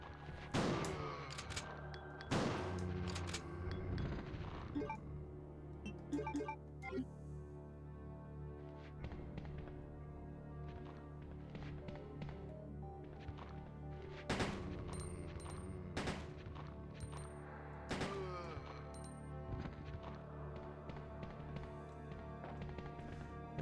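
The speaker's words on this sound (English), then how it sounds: "Now this is actually a good place to use a shotgun." Shotgun blasts in the 1998 PlayStation survival horror game Resident Evil 2, several separate booming shots spaced out over a quiet, droning background.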